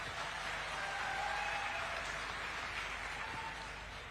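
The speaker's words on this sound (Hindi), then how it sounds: "इसमें भी तो ताली बजाओ" An audience at a youth Agniveer dialogue event with Uttarakhand Chief Minister Dhami in Dehradun claps in a steady, moderate applause that holds evenly and tapers slightly near the end.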